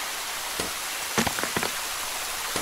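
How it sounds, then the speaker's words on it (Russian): Rain falling in the video game Deiland: a steady hiss of rainfall fills the whole clip, with a few soft, brief taps and clicks on top and no talk. "О, смотри, дождь пошел."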